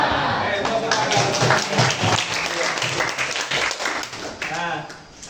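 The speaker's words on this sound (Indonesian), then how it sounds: "Tepuk tangan." A classroom of students claps hands together on a teacher's cue, quick sharp overlapping claps mixed with voices and chatter, fairly close and lively, tapering toward the end.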